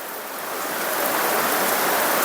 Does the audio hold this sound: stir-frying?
no